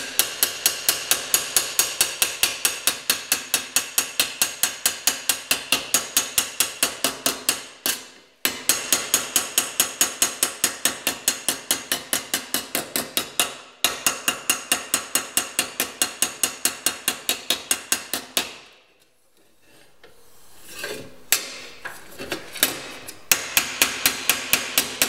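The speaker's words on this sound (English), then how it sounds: "got my dolly set up, I've got a planishing hammer" Rapid, loud metallic hammering from a planishing hammer beats steadily on a sheet metal panel over a dolly, pausing briefly twice before resuming, then trailing off into scattered taps; repair of a Mk4 Escort A-pillar and roof.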